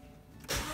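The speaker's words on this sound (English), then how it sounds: "we'll start the engine" A car engine, connected to an OBD2 diagnostic reader for air conditioning checks, cranks and catches, switching from near silence into a sudden loud, steady running roar.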